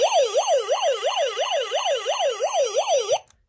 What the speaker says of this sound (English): there is the faster siren